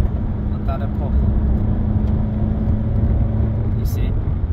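Honda Civic Type R driving on the road and overtaking another vehicle, a steady engine drone with road noise inside the cabin, someone talking over it throughout.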